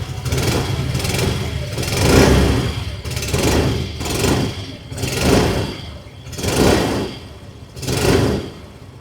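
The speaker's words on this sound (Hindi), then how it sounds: "आइए अभी सुन लेते हैं इस स्कूटर की एग्जॉस्ट नोट।" A 2026 Yamaha Fascino 125 scooter, base drum-brake variant, idles with a steady exhaust note and is revved in about six regular, rising swells, close by and alone.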